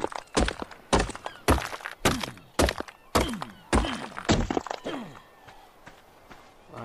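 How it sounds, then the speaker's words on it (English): About eight sharp, evenly spaced thunks of a pickaxe striking metal ore in ARK: Survival Evolved on the Valguero map, each hit loud and close with a short decaying ring, then fading into quiet. "gonna mine this metal"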